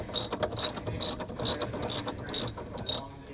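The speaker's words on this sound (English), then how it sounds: "And of course, I need another wrench." A ratcheting wrench tightens a ring terminal onto an RV battery post, giving loud, close clicking bursts in a steady back-and-forth rhythm of about seven strokes, with no talking.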